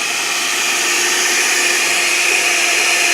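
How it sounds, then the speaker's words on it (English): A vacuum cleaner working over a car's interior, a steady loud broadband whoosh holding even for the whole stretch, close by with no talking. "So while Danny continues vacuuming, he's already got this back end pretty clean"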